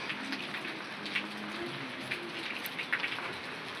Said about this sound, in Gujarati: વરસાદ ચાલુ જ છે ઝીણો ઝીણો.